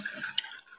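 One cup of water is poured into a pan of chicken curry gravy, a brief soft splash and dribble, close and quiet with no talking.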